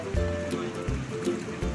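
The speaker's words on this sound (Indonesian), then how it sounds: "Ombak sudah datang itu." Sea waves surge onto the shore of a receding sea after an earthquake. Three broad, close water rushes arrive in a roughly regular rhythm over constant background noise.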